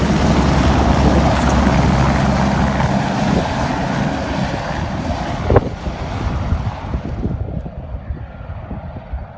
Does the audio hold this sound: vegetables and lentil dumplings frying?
no